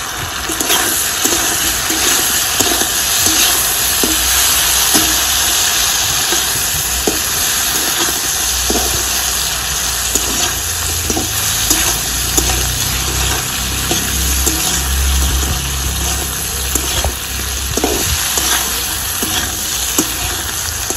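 Vegetables for shukto frying in a pan with ginger and radhuni paste, a constant loud sizzle with regular scraping and clacking as they are stirred, no voices.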